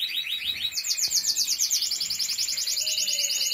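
Cage birds bred by a hobby breeder chirping in rapid, repeated high trills, several birds overlapping close by and loud, with a continuous rhythmic warble and no talking.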